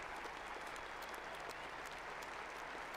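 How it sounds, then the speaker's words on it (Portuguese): Sustained applause from a large audience at an outdoor papal Mass in Commonwealth Stadium, Edmonton, Canada, steady and dense clapping throughout with no pauses, heard from within the crowd. "Um longo aplauso dos presentes após estas palavras"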